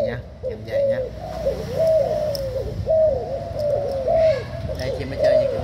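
Spotted doves offered for sale give repeated soft cooing calls, close and fairly loud, in a rhythmic series across the whole stretch, with faint background voices.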